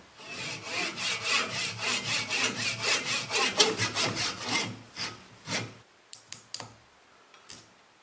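A hand saw rasps lengthwise through wood in steady back-and-forth strokes, close by, then slows to a few scattered scrapes and taps.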